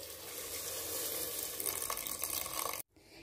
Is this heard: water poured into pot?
yes